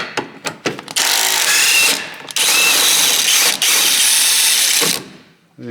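A power tool with an 18mm socket spins a bolt off a Volvo S40/V50/C30/C70 control arm, with a few short clicking pulses followed by loud sustained whirring runs with brief pauses, close to the listener.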